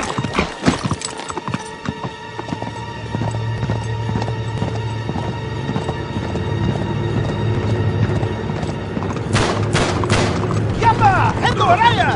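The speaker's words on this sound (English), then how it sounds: "There's my horse!" Hooves clip-clop along steadily amid a busy Uncharted 3 game soundscape, with shouting voices, scattered gunshots and a rising rumble of movement.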